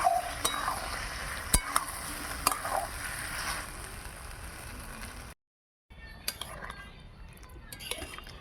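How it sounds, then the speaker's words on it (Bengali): Fried soybean chunks and potatoes being sautéed in spices, a gentle sizzle with scattered metal spoon clinks and scrapes against the pan, briefly cutting to silence before the stirring resumes, no voices. "ভালো করে কষে নেব"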